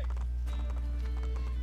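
A horse gallops in the video game Assassin's Creed Brotherhood, rapid rhythmic hoofbeats clip-clopping over a constant deep hum, loud and close for a brief burst.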